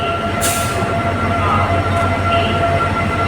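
A train at a railway station rumbles loudly and steadily, with a brief high screech of wheels near the start and a sustained tonal whine throughout.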